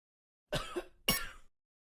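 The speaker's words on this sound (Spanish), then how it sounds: "Tiene tos" A person coughs twice at close range, two short harsh bursts roughly half a second apart with a throaty, rasping quality, then silence.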